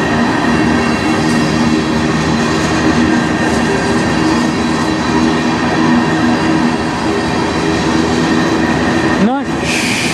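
Eastbound CN manifest freight rolling past, a mix of tank cars, auto racks, hoppers and aluminum cars, giving a loud, steady close rumble and rattle of wheels throughout with a brief squeal near the end.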